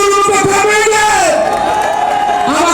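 Audience at a stage show erupting in loud cheering and whoops, with a raised voice calling out over the crowd noise, close and intense.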